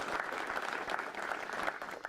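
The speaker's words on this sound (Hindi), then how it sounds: "जोरदार तालियां विशेषज्ञों के लिए जल्दी से बजा दीजिए।" Hearty applause from an audience of farmers at an agricultural question forum in Mathura, a continuous crowd clapping that stays even and moderately loud from start to finish.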